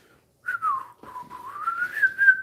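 A person whistles a short snatch of the tune Dixie, a clear solo melody of a few rising and falling notes, close and fairly quiet, with no talking.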